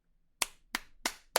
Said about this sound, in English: it was like 3 little claps of applause